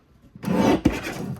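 A cardstock strip trimmed on a paper trimmer for a greeting card kit: a brief close rasping slide of the blade through the card, loud and alone.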